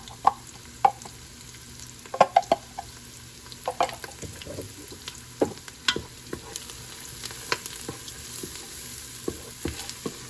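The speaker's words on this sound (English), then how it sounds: "I got bay leaves, I got cinnamon, I got cloves, and I got also cardamom. So I'm gonna add all to the same pan." Bay leaves, cinnamon, cloves and cardamom fry in oil in a pan for chicken biryani, crackling faintly while a spoon stirs with scattered sharp scrapes and taps. The stirring is close, irregular and wordless.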